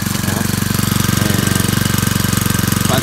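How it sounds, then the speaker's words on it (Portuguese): A Makita EX2650LHG four-stroke multi-tool engine idles close by, a loud, steady, rapid chugging that holds an even rhythm throughout with no voices. "Faz bem menos barulho do que uma dois tempos, mas também está na marcha lenta"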